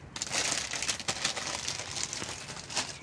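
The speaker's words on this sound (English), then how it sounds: "We gotta place a few of the Doritos in this plastic bag." Doritos chips being placed into a plastic bag, with steady crinkling and crunching of the plastic and chips throughout, close and fairly loud, with no talking.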